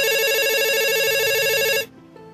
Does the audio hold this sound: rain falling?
no